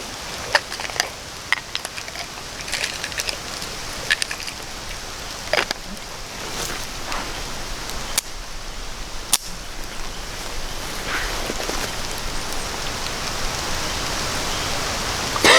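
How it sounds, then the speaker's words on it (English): Steady rain falls with a dense patter across the whole stretch, punctuated by a few sharper drips and taps nearby. "It's actually raining."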